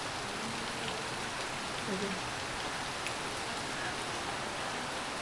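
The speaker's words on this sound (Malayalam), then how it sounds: "മഴ, നല്ല മഴ വന്ന് കയറിയപ്പോൾ തുടങ്ങിയ മഴയാണ്." Heavy rain falls as a dense, steady hiss that continues without a break, with a faint voice underneath at one point.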